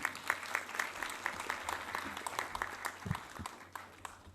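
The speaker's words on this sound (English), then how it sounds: "I think we should have a big round of applause for this humble talk." Light applause from a conference audience after a talk on quantum physics and consciousness, a sparse patter of distinct claps, fairly faint and distant, with a brief voice mid-way.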